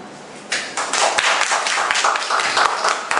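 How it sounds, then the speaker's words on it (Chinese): A small audience claps to welcome the next person up for a two-minute self-introduction at a meetup in Kaohsiung, producing brisk, close, dense hand claps that keep going at an even level for a few seconds. "我们掌声欢迎冠霖"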